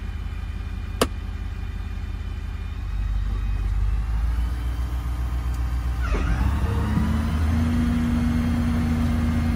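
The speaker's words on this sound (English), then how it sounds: "Truck automatically runs up to the right RPM." A truck's diesel engine runs up from idle to a steady higher speed to drive a generator through its power take-off, a loud continuous rumble with a rising tone that settles into a sustained hum.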